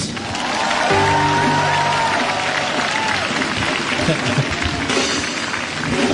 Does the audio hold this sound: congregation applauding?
yes